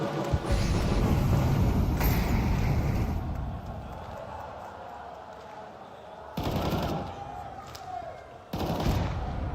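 Rifle fire in Counter-Strike 2 during a pro match between G2 and FURIA: dense bursts of shots and rapid reports, then quieter stretches broken by sharp single cracks, with muffled commentary underneath.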